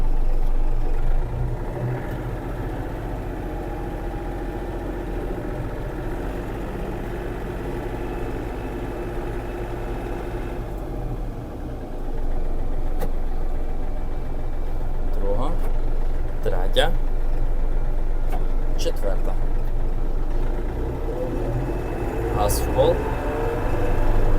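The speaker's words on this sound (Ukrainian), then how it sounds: "Реверс вперед і тракторець поїхав." A Yanmar AF-333 mini tractor engine runs steadily throughout, a low droning hum that rises slightly as it begins moving, with a few faint clicks and knocks.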